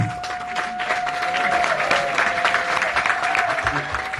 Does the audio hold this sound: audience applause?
yes